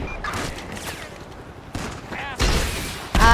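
Gunfire in GTA 5 aimed at a helicopter overhead: bursts of shots and booms in an intense fusillade that grows louder toward the end, with a voice talking over parts of the action.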